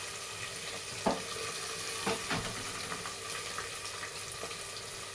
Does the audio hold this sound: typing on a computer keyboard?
no